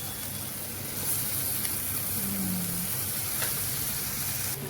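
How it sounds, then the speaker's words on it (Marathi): Tomatoes go into hot oil in a pan, giving a steady, even sizzle that hisses continuously at a fairly loud level, close by, with no voices. "थोडं ह्याला भाजून घ्यायचं तेलात आता याच्यात टमाटे टाकून घ्यायचे"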